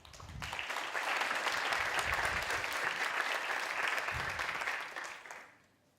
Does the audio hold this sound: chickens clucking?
no